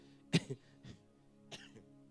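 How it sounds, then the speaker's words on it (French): A few people cough and clear their throats in a cold church hall, with several short separate bursts, one sharper cough followed by quieter ones, close and otherwise quiet. "Tout le monde est en train de tousser."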